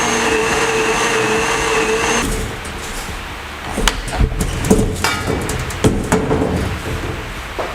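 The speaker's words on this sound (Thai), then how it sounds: "เมื่อเราปั่นเรียบร้อยแล้วนะคะ เราก็จะมากรองใบเตยค่ะ" A kitchen blender whirs steadily while blending pandan leaves with water, then cuts off, followed by clattering knocks and handling noises of the jar and lid.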